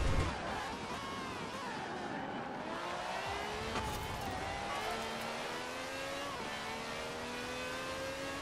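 A Maserati MC12 in the video game Forza Horizon 4 revs hard through rising gear changes, its engine whine climbing in steady loud pulls after a brief burst at the start.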